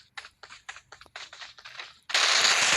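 Gunfire in the mobile game PUBG Mobile: a quick run of sharp, separate shots rattles out, then gives way to a loud, sustained burst of noise at the end.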